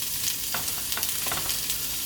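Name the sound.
pork ribs sizzling on a griddle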